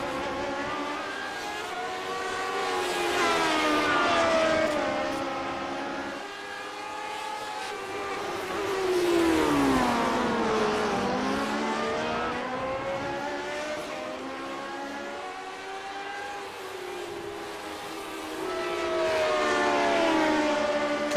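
Classic Lotus GP race cars at Road America in iRacing, engines droning and rising and falling in pitch as they accelerate, downshift and pass, a continuous layered whine with no talk.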